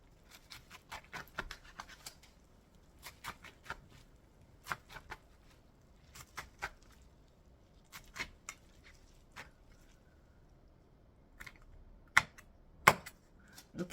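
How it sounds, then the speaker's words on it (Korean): A knife cuts seaweed stems (miyeok julgi) into bite-size pieces on a cutting board for a vinegared seaweed salad, giving a sparse run of sharp, close, irregular chops and taps over a quiet kitchen background. "미역줄기도 이렇게 쓸어줍니다"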